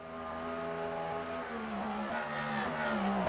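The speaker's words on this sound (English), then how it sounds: "you've got screamers such as Lamborghinis, this particular Aston. Just naturally aspirated V12s and stuff." An Aston Martin with a naturally aspirated V12 revs in the Le Mans Ultimate racing game, a continuous high engine note that shifts in pitch as it climbs through the revs, loud and steady.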